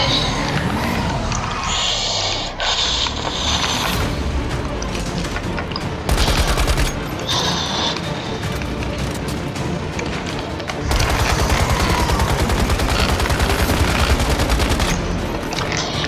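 Heavy, continuous gunfire from a Fortnite or Apex battle-royale shooter: dense bursts of automatic fire and shots with booms and thuds, loud and sustained throughout, no talking.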